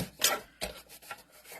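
Trimming one side of a stencil mat gives a few short, close rasping cuts and rubs, two stronger strokes followed by softer scrapes, with no voices.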